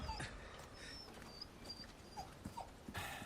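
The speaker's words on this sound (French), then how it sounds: "Ah, le pauvre loup." A wolf whimpers in the video game Resident Evil 4 Remake: a few quiet, high, wavering whines and yips come in short bursts over a faint background.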